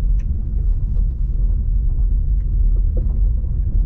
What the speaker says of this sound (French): Et ben même sur les chemins, le confort de la voiture.